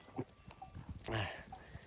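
Sheep bleat faintly amid rustling on a mountain pasture, with a louder bleat near the middle; the sounds are soft and somewhat distant.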